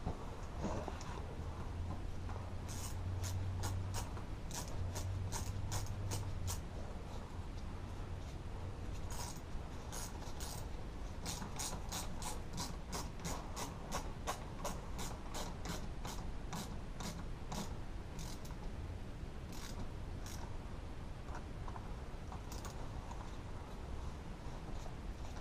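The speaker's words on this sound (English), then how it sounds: "Get the wrench out" A hand wrench ratchets while working on the back half of a Losi DBXL RC car, with quick bursts of sharp metallic clicks repeating in runs, close and clear against a low background hum, and no talk.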